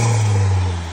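Engine note from a Mk7 car fitted with a new intake, a strong steady drone that holds loud through the second, then eases off slightly at the end with no talk over it.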